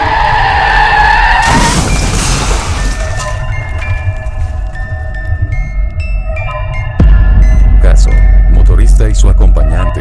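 A speeding motorcycle carrying a rider and passenger collides with a car: a loud engine drone and screeching skid, then a heavy low impact rumble near the end, with a dense mix of effects throughout.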